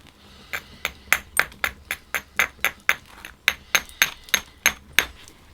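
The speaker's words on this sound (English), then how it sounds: "So this is what we call a soft hammer. This is a big piece of red deer antler." A large red deer antler soft hammer strikes the edge of a stone being knapped into a dagger, producing about eighteen sharp, close, ringing taps in a fairly regular rhythm over a quiet background.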